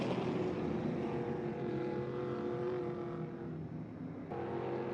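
Purpose-built 1980s metric-chassis stock cars, Buick Regals and Chevy Monte Carlos, roar around the Irwindale Speedway oval as a steady, dense engine drone from several cars at a moderate distance, with a shift in tone near the end.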